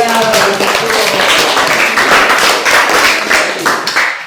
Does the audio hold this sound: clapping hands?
yes